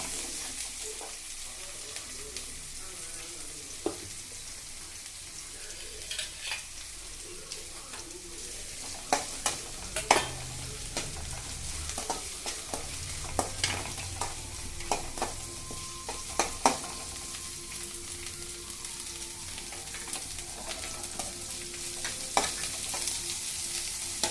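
Sliced onions and curry leaves sauté in a hot pan for a homemade dish, a continuous low sizzle with scattered clicks and scrapes of a spatula tossing them, fairly close and moderately quiet, no voices.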